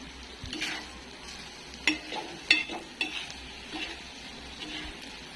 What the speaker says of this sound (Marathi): आता ही गावरान अंडी ते आपल्याला चांगली भाजून घ्यायची तेलात